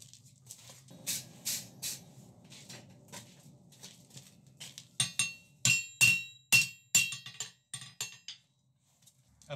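Steel tong jaws are hammered on an anvil while being forged, a string of sharp metallic strikes, some ringing, in an uneven rhythm, fairly close, with quieter taps between blows.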